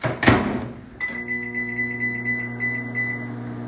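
A microwave oven running with steady hum and high electronic tones, with a bag of popcorn being popped using water, includes a sharp clunk early on, then a sustained electronic beeping pattern repeating several times.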